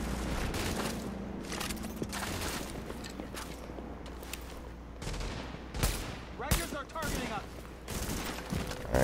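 Video game gunfire, with dense bursts of rapid shots and occasional heavier booms cracking out one after another at loud, close range, mixed with faint game ambience.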